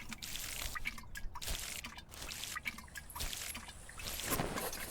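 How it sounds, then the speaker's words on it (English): Watering can pouring onto six tomato plants in the farming game We Harvest Shadows, a steady trickling, dripping stream of water that runs continuously at moderate level with soft splashes. "So water 6 tomato plants."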